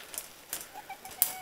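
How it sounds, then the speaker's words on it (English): Two tiny Serama bantam chickens in a small wooden breeding pen give short, soft clucks and chirps, a few brief calls spaced apart, close by with no talk. "these are two little Seramas here, so they're pretty tiny"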